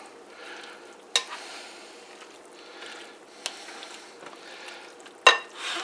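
A spoon scrapes through a breakfast bake mixture in a pan, with a low hiss underneath and a few sharp clinks of utensil against metal.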